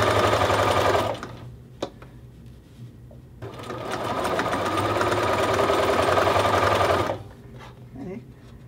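A sewing machine stitches a men's shirt collar in two loud, steady whirring runs separated by a quieter pause, with speech over it.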